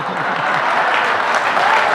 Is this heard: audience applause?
yes